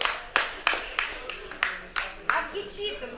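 Audience clapping in a rhythmic unison beat, about eight sharp claps spaced roughly a third of a second apart, at an ArtGothica event in Sibiu, fairly close and loud.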